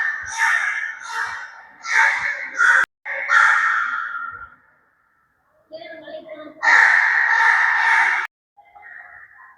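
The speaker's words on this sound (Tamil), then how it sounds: "எல்லா இடத்துலையும் இந்த காக்கா பிரச்சனை மட்டும் நிறைய இருக்குது சவுண்டு கேட்டுகிட்டே இருக்கு" Crows caw loudly and close by at a church, harsh repeated calls coming in bursts separated by short quiet gaps.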